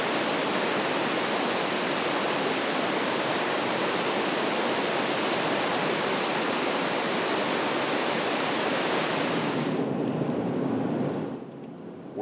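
A waterfall beside the Alaska Highway roars as a loud, steady broadband wash of falling water, constant for about ten seconds before dropping away suddenly near the end.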